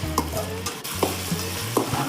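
Green chilies and garlic sizzle in a pan while a spatula stirs them. Several scraping strokes cut through the steady, close frying hiss.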